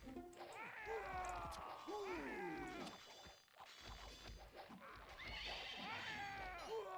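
Several horses neigh and whinny in the Knights and Merchants strategy game, loud, layered calls that rise and fall over a busy battle din with thuds and clatter, pausing briefly near the middle before more whinnies follow.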